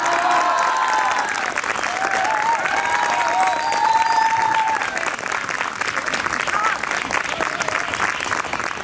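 A lecture audience gives loud, sustained applause with cheering and whistles at an inaugural psychoanalysis class held in front of a planetarium, the clapping steady and dense throughout.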